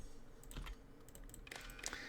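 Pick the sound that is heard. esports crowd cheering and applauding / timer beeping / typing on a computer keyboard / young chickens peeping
typing on a computer keyboard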